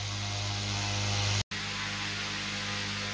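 A drone motor spins a propeller on an aeropendulum prototype, producing a steady hum with a strong low tone that cuts out for an instant and then resumes at the same level.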